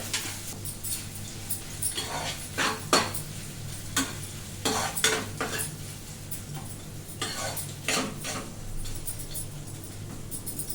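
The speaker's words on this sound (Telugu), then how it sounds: "ఇలా మామిడి తురుమును ఒక 2 నిమిషాల వరకు బాగా కలుపుతూ మగ్గించుకోవాలి" Grated mango cooking in a pan is stirred steadily, with scraping and clinking bursts of the spoon against the pan over a soft continuous sizzle, fairly close and with no talking.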